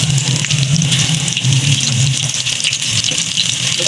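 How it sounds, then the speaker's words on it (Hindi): Onion rings frying in hot oil, a loud steady hiss and crackle of bubbling fat that fills the whole stretch without pause, close up and alone. "जब तक हमारी अनियन रिंग्स फ्राई हो रही हैं"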